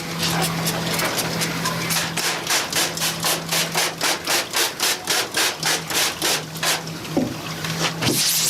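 A screen-printing mesh is scrubbed with Screen Cleaner in steady back-and-forth strokes, about two per second. The rhythmic rasping sounds close and fairly loud over a faint background hum.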